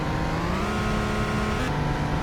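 Engine of a jeep in the Greenville driving game revving loudly and steadily as it speeds up during a speed test, with pitch climbing and a brief shift near the end, no talking.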